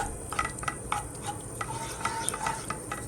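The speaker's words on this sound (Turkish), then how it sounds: "Şöyle kavuralım. Güzel kavrulsun bakalım." Pepper paste sautéing in a pan, with a soft hiss under quick, repeated scraping taps of a spoon against the pan, close and fairly quiet, with no one speaking.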